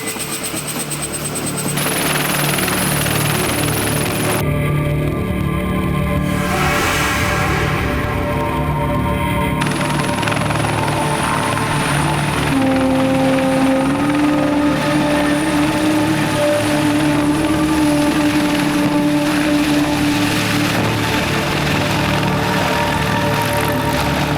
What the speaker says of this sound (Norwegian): Et ambulansehelikopter og et sikringshelikopter som skal gi ambulansen nødvendig beskyttelse.